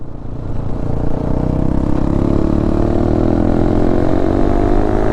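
BS6 motorcycle exhaust note on a ride toward Kodaikanal, the engine building smoothly as it revs up and then holding a steady, loud drone with rising pitch, no speech.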